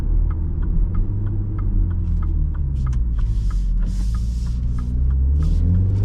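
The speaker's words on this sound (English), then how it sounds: "Let's do some backroad driving now" A 2025 MINI Countryman S ALL4 driven along a backroad, heard from inside as a steady, low engine and road rumble with a regular light clicking ticking throughout, no talking.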